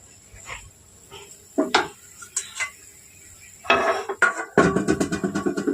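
A metal lid clatters onto a pan of simmering pomfret curry, with scattered clinks and scrapes of cookware, brief knocks, then a denser run of rattling near the end, close by and fairly loud.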